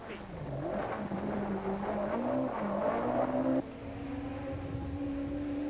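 A Volkswagen Golf Synchro rally car is heard from inside on a 1993 rally stage, its engine droning loud and steady with pitch rising through gears, then dropping after a shift and holding a lower note.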